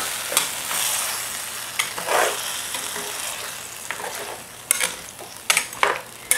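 Tomato and vegetables fry in a clay cooking pot for a coastal-style beef soup, with a continuous sizzle broken by scraping stirs and occasional utensil knocks against the pot.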